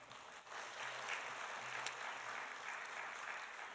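A church congregation applauding during a young adults' service, a steady moderate clapping that lasts throughout, heard from within the room.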